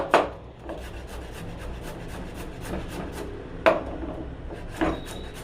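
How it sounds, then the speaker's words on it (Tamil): A knife taps sharply on a cutting board as vegetables are chopped into small pieces, giving a few faint, irregular strikes over a quiet background. "இந்த மாதிரி குட்டி குட்டியாக கட் பண்ணிக்க வேண்டியதான்."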